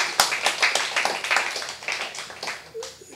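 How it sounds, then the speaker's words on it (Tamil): An audience clapping at a Tamil debate hall event, a stretch of dense rhythmic applause that gradually thins and fades over a few seconds. "அந்த நால்வருக்கும் நல்லா ஒரு முறை கைத்தட்டி பாராட்டு."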